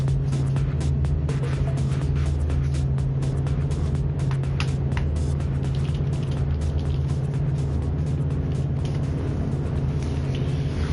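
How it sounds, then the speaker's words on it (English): The number 64 Aston Martin race car pulls away at the 24 Hours of Le Mans in a racing game, giving a constant loud engine drone with a strong low hum and dense crackling noise above it. "I heard a car going out, and it's number 64 Aston Martin."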